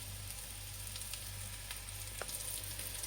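Lamb rissoles sizzling steadily in a frying pan, a continuous close crackle with occasional small pops and no voices.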